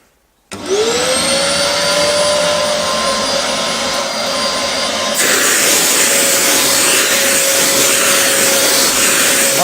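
A Vax Dynamo Power Reach vacuum cleaner switches on and runs on carpet with a loud, steady whining roar close by. Its pitch rises at start-up and the sound gets slightly harsher partway through, with no talk.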